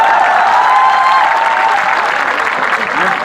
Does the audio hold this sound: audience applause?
yes